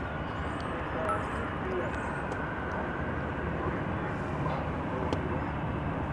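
An old 1989 airliner lands on runway 18 left at DFW Airport, its broad steady engine roar and rumble holding evenly throughout at a moderate distance.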